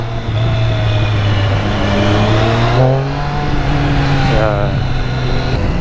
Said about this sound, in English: I just wanted to give it a little snap at the throttle here